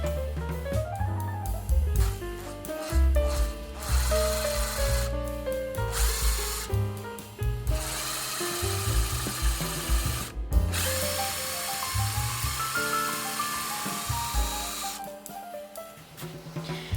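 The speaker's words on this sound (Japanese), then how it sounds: "接合部に対して90度で下穴を開けます。" A power drill whirs in bursts, starting and stopping several times as it bores a pilot hole into wood, with a steady motor hum under scraping bits.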